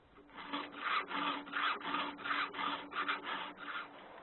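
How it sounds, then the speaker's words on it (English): A file rasping across a sawmill chainsaw chain clamped in place for sharpening, with a file gauge, in steady back-and-forth strokes, about nine even rhythmic passes, close and clear with no talking. "The best way to file the chain is to fasten it like this. A good file gauge makes the job easier."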